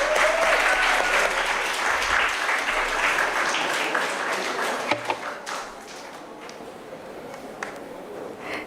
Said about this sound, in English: Let's hear a huge round of applause